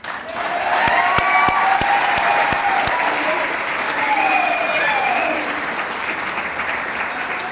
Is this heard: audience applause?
yes